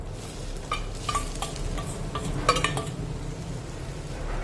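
A soft, steady sizzle of coarsely ground peas frying, with a utensil scraping and stirring in a pan, giving occasional light clinks.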